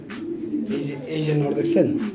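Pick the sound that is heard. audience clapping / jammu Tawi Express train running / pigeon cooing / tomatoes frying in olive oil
pigeon cooing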